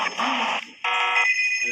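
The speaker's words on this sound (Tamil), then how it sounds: "ஃபோன் அடிக்குது." Phone ringing inside the video game Payback 2, a bright electronic ring in two bursts with a short gap between them, loud and close.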